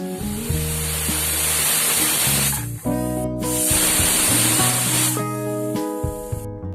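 A pressure cooker of carrots simmering in milk for carrot halwa lets out loud, sustained whistling hisses, two long bursts separated by a brief break, with tonal background music running underneath.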